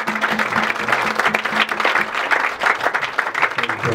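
A church congregation bursts into loud, close applause, dense clapping running steadily throughout with voices mixed underneath.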